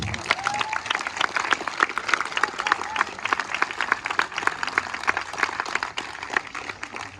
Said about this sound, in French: Applaudissements collectifs.